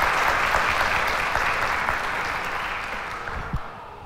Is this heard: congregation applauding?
yes